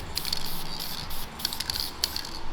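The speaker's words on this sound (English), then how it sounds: "I don't wanna spray you, Aiden." Short hissing bursts of purple spray paint from an aerosol rattle can onto brake calipers, a few quick sprays over a steady background hum.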